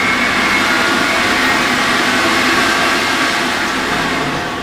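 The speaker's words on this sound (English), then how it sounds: "this is a Better Home and Garden mixer" An electric Better Homes and Gardens stand mixer runs steadily while making a lemon vegan pound cake, producing a loud, continuous whirring motor drone that holds even throughout.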